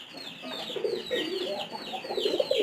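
Close, low cooing and throaty grumbling from a rain-soaked pigeon too heavy to fly, repeating in soft bursts without pause.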